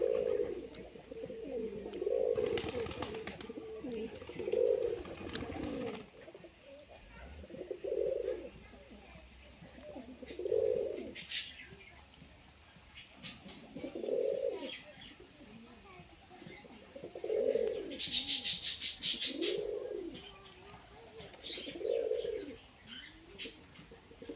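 Pigeons coo in a steady run of low, rounded calls repeating every couple of seconds after feeding on peanuts, with occasional flutters and chirps and a voice talking at the start.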